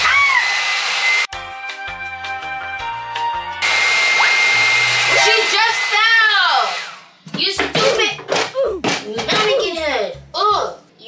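A hair dryer blow-drying mannequin hair hums steadily for several seconds, cutting off and restarting, while people talk over it and continue speaking once it stops.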